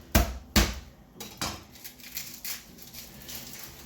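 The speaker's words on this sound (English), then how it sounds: "Some onion. Rough chop on here." Knife rough-chopping onion for pickled onions on a board: two strong thuds start it, then a string of lighter, uneven taps that fade to quiet cuts, close and with no talking.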